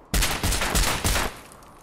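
Gunfire from a weapon in the Fallout video game: a rapid burst of loud, close shots fired in quick succession, then the firing cuts off and only a low background hum remains.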